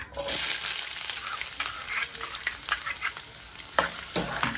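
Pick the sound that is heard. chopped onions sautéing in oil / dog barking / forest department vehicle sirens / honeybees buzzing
chopped onions sautéing in oil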